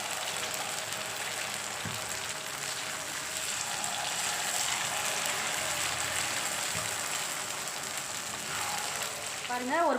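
Kuzhi paniyaram batter fries in oil in the wells of a paniyaram pan, giving a steady, close crackling sizzle that runs unbroken throughout, with a few light metallic clinks near the end.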